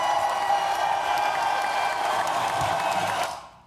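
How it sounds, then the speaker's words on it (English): Applause on a live talk show, a steady wash of clapping from the crowd that holds throughout and fades out at the end, with no one speaking over it. "Let's give us a round of applause"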